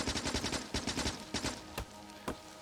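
Rapid turret gunfire in Factorio, bursts of sharp cracks in quick rhythmic clusters, then a pause and two louder isolated shots, all close and without talk.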